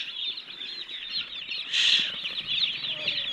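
Day-old broiler chicks in a brooding pen, a dense continuous chorus of high peeping with a brief burst of wing flutter, fairly close and steady.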